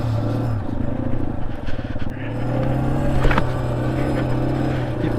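A Yamaha XT250 dual-sport motorcycle rides steadily near a shallow Texas pond, its engine holding a low, continuous drone throughout, with a brief rough patch of scraping and rumbling partway through.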